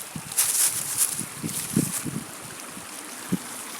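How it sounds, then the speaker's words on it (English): River flowing near a waterfall at Santa Fe, a steady broad rushing wash heard close, with low thumps and bumps of handling noise over it. "I'm like really close to the river right now. I wonder if you guys can hear it."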